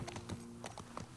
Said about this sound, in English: We go up with the horse?